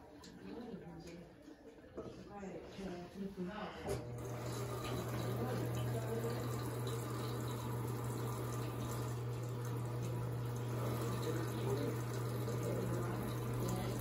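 An Electrolux Premium Care 17 kg top-loading washer with a stainless steel basket fills with tap water, a steady loud rushing flow starting a few seconds in after some background noise, with a voice talking over it.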